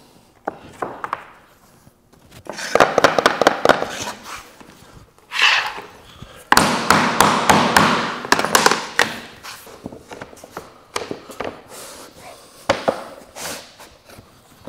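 NuCore vinyl plank flooring is dropped and locked into place, producing sharp close taps, clicks and clattering knocks in irregular clusters, with quiet pauses between.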